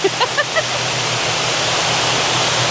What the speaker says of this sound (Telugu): మంచిగా వాటర్ పడుతున్నాయి కదా మీద